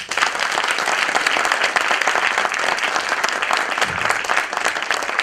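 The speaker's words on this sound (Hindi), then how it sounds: "हर कोई अपने जननी के लिए, अपने माता के लिए एक बार जोरदार तालियां" A loud, dense round of applause from an audience at a Mother's Day talk in Hindi, steady clapping that fills the whole stretch without a break.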